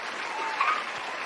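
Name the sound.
audience applause at a comedy show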